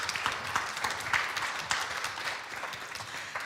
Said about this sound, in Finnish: Eli annetaan meidän panelisteille aplodit tässä välissä.